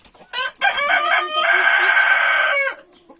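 A rooster crows loudly and close by, one long sustained call lasting about two seconds, with faint background noise before and after.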